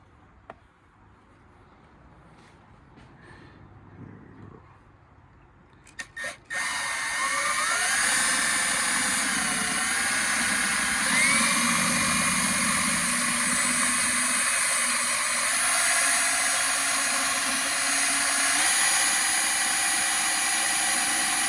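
A drill bit bores into a steel wheel rim, starting with a few short bursts and then running as a loud, continuous high-pitched whine with shifting pitch for a long stretch, with no talking.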